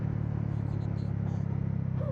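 A motorcycle engine on a hill ride in low gear at about 5,000 RPM, a close, steady low rumble with a rapid pulsing throb and faint wind and road noise over it.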